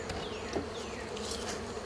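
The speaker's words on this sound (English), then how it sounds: "hopefully I'm not going to disturb any of those bees" Honeybees buzz around the entrance of a colony trying to swarm, a steady close drone with individual bees zipping past, faint overall.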